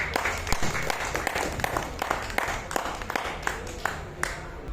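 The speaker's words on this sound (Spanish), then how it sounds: "fuerte los aplausos para ellos" An audience applauding at a book fair in Lima, steady scattered clapping throughout, fairly close with a busy crowd murmur underneath.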